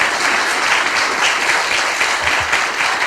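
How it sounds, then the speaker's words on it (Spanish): An audience at a lecture in Mexico breaks into steady, dense applause to welcome Manuel Castells, a continuous wash of many hands clapping close by with no pauses. "recibamos con un aplauso al doctor Castel"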